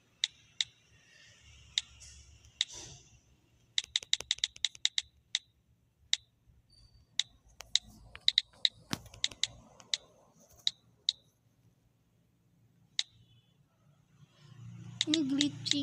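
Typing a command on a computer keyboard while playing Minecraft, scattered bursts of sharp key clicks in quick runs separated by pauses, close and fairly quiet, with a low rumble rising near the end.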